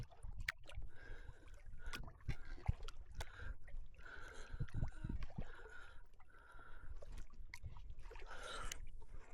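Paddle strokes from an Old Town Discovery Solo Sportsman 119 solo canoe, with soft splashes and water gurgles at a steady rhythm, close by, against a breezy headwind with no talking.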